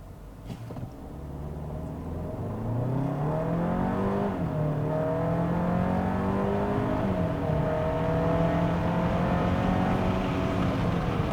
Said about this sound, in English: I do want to try a quick little 0 to 60 acceleration with this vehicle